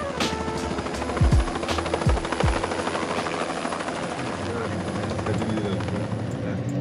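Helicopter engine starting up in a flight simulator game, a loud rotor-like buzz and whine throughout, with a few short low swooping tones early on and people chatting over it.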